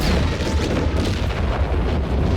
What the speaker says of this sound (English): And we got more artillery strikes off.